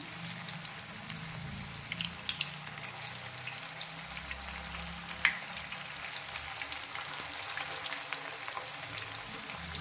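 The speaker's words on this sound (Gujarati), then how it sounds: "તો હવે નીચેથી એકદમ સરસ એવો ક્રિસ્પી નાસ્તો થાય ત્યાં સુધી તેને આપણે તળાવવા દઈશું" Fresh fenugreek snack pieces frying in oil in a pan over a medium-low flame, giving a steady, close sizzle with scattered small pops and crackles throughout.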